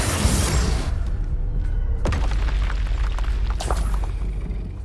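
Booming spell blasts from Hogwarts Legacy: a heavy explosive burst at the start, a sharp crack around two seconds and another blast toward the end, loud and close with no talk.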